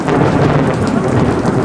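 Heavy rain pours down with a deep rumble of thunder at an outdoor summer festival where chefs are cooking in the open, the dense, loud wash of sound continuing steadily with no voices.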